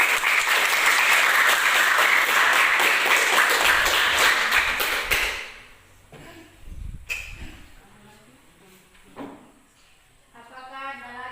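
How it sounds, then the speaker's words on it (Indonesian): Students in a classroom applauding a classmate: dense, loud clapping from a group for about five seconds, then cutting off into room quiet with scattered knocks and brief voices. "Berikan aplaus untuk Rika ya."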